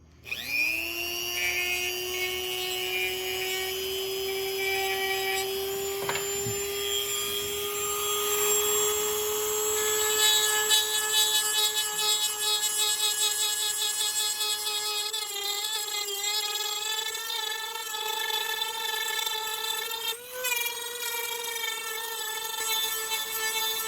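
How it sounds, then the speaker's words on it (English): A rotary tool fitted with a buffing bit and compound polishes the feed ramp of a custom 1911 pistol, giving a steady high-pitched whine that holds throughout, with slight pitch shifts as it loads against the metal. "so I've got a buffing bit in my rotary tool here, and I'm going to put a little buffing compound here and give it a final buff."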